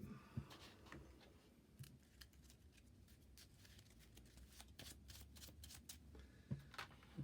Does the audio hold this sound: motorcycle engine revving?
no